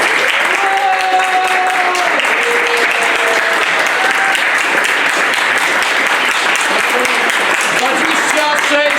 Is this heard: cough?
no